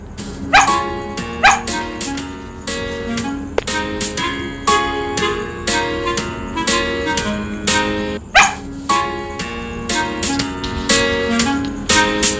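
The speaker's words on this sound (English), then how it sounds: "What sound does a dog make?" A cartoon dog barks repeatedly in short, sharp bursts, with a few yips mixed in, loud and close against a bright, steady musical backdrop in a children's learning video.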